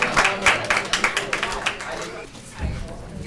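Applause from a graduation audience for the graduating students: a burst of clapping that starts dense and loud, then thins out and fades after about two seconds, with a low rumble of voices near the end.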